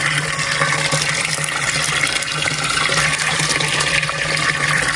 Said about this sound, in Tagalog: Yan, lakas ng bukal.